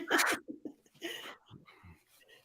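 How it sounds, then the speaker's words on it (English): A person with a bad cold blows their nose in one loud, harsh burst close to the microphone, followed by a few soft breaths and sniffly sounds. "excuse me for blowing my nose"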